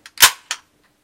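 An AKS-74U compact rifle firing 5.45 rounds, two sharp close shots about a third of a second apart, the first louder, preceded by a faint click, then silence.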